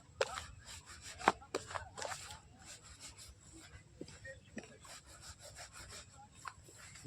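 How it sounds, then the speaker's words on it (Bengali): Semolina fishing bait for catla, rubbed and mixed by hand, giving a run of close, quiet rasping scrubs in an uneven rhythm, with a few sharper knocks early on. "এরকম ঘষে ঘষেই টোপটাকে একদম সুন্দরভাবে একদম মিক্স করছে"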